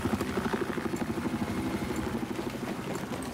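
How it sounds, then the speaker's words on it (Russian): A helicopter takes off in an infantry video game, its rotor beating in a fast, steady throb over a rumbling engine drone, fairly loud and continuous. "Вертолет взлетает."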